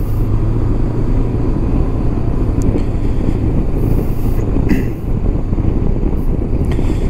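A Honda CB 500X motorcycle rides along asphalt with a constant engine drone heavily buried under loud, steady wind roar on the microphone.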